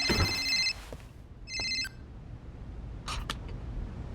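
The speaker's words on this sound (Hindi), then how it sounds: "करण का कॉल, क्यों फोन किया होगा?" A telephone rings with an incoming call in two loud bursts of a harmonic electronic ring, separated by a pause, followed by fainter clicks and rustle with no talk.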